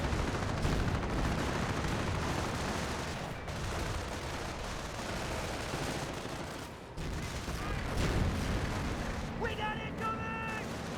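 An artillery barrage in Company of Heroes, dense continuous booming explosions and gunfire rolling through the whole stretch, with a commentator speaking over the battle.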